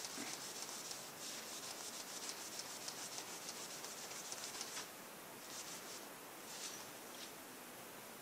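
An old rag or sock rubbed against a bicycle pump during restoration, a faint, steady swishing scrub with quick repeated strokes, close by and quiet.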